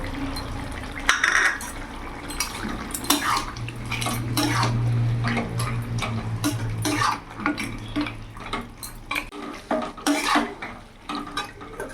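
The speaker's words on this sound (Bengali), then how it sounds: "এবার এর মধ্যে ভেজে রাখা বড়িগুলো দিয়ে দেবো" Fried lentil dumplings (bori) going into a pan of vegetarian lau shukto, with a series of sharp clanks and scrapes of a utensil against the pan and brief splashy stirring, fairly close.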